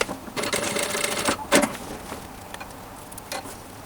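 A sewing machine runs a seam along the edge of a folded fabric T-shirt strap in short close bursts of rapid whirring stitching, broken by a clack, brief pauses and a final short run.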